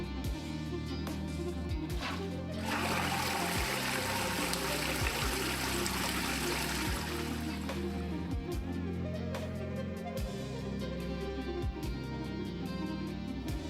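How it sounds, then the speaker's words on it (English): A Geberit toilet with a DuoFresh unit flushes after its push button is fitted, a strong rushing surge of water that swells mid-flush, then trickles and refills, with clunks and taps from the cistern around it. "Close the push button and check for correct flushing operation."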